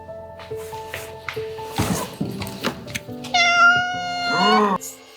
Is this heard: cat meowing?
yes